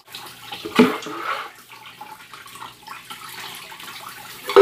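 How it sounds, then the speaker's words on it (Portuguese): Whey from homemade cheese drains through a strainer with a close, splashy trickle of liquid. It surges briefly at the start and again at the end, with softer pouring in between. "O soro tá escorrendo tudo, ó."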